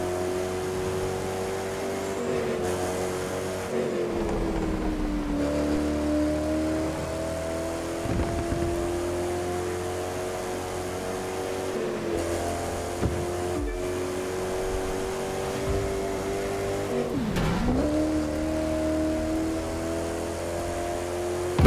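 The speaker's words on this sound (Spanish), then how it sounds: "Desde el primer acelerón, los dejamos atrás." A Koenigsegg Regera engine in a racing video game, holding a loud, sustained whine that climbs and dips through gear shifts over a steady drone, with no voices.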